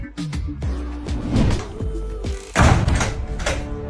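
A door thumps and rattles in a string of repeated heavy knocks, roughly every half second. The thuds are close and loud, with short gaps between them.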